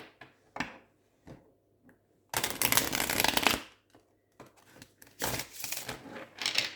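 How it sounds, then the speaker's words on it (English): Tarot cards being shuffled by hand: scattered light taps and clicks, then a dense riffling burst lasting about a second, followed by more quick, crisp shuffling flurries, close and fairly quiet. "I'm dropping quite a lot of cards with these shuffles"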